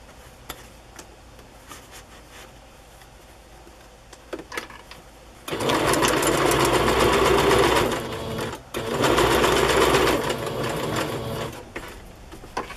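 A sewing machine runs in two fast, steady bursts of stitching, separated by a brief pause, with quiet handling clicks before.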